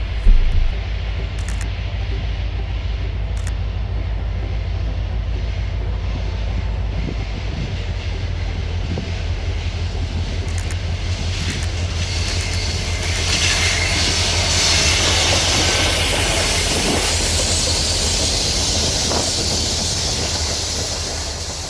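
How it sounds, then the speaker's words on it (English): A Conrail H57 freight train led by an original SD40-2 diesel locomotive rolls steadily past with a deep, constant engine rumble, wheel squeal and clattering cars that swell louder toward the end. "One of the main reasons for shooting H57 was the original Conrail SD40-2 that's leading the charge south."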